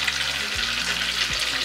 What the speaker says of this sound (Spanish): Pongámosle una buena cantidad de queso y que se cocine bien la clara.